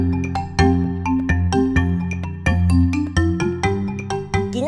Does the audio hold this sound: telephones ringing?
yes